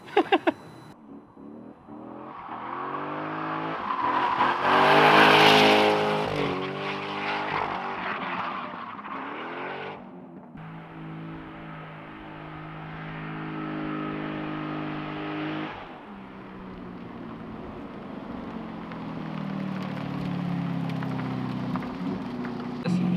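A drift car engine revving while driving, a loud, close roar that climbs sharply, dips, then holds at a sustained drone with shifting pitch for over twenty seconds, without talk.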